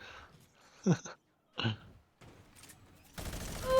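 Minigun fire in the Fortnite video game comes as a couple of short sharp bursts, then a denser rattling stretch near the end, at moderate loudness.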